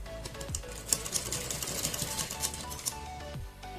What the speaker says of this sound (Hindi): इस पट्टी को हमें लूज लूज छोड़ना है काफी